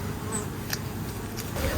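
Honey bees buzz around an open hive with plastic-foundation frames, a dense continuous hum close by, with individual bees droning past.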